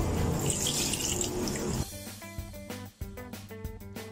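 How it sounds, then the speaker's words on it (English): Chicken or fish stock poured into a pan of melted butter and flour for a velouté sauce, a steady liquid rush for about two seconds that gives way to a bubbling, clinking sizzle close by. "Then I'm gonna pour the stock."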